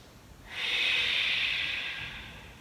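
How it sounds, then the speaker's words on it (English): One long, steady breath out through the nose during a yoga forward fold, a soft airy hiss lasting about a second and a half before fading. "Take 2 more active breaths here"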